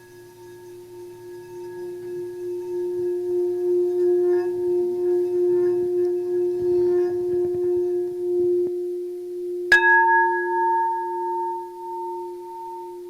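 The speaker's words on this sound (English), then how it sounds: "I'm going to use the bell to help me." A single bell struck to accompany a hymn leaves a sustained, clear ringing tone with steady overtones that fade slowly, then a second sharper strike near the end rings out again, alone and fairly loud.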